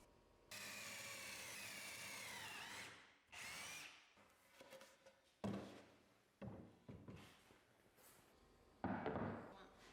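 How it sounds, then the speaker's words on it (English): A power drill whirs in several bursts boring pocket holes in plywood panels, a long run followed by shorter spurts with clunks and handling noise between them. "Then I drilled pocket holes along the side panels between these marks."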